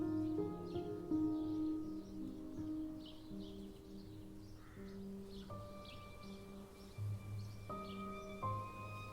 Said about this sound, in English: the birds seemed to love it too because they were just singing like crazy